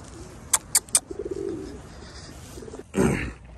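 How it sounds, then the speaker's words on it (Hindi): Several sharp clicks and taps, then soft low cooing from a nearby pigeon being fed by people in England, followed by a brief rustling burst. "जो हैं खाना खिला रही हैं कबूतरों को। कबूतर डरते ही नहीं है यहाँ पे"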